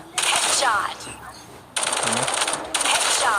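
A Vandal rifle in the Hyper Front shooter fires in rapid automatic bursts: a long burst, a pause, then two more loud close bursts of crackling gunfire.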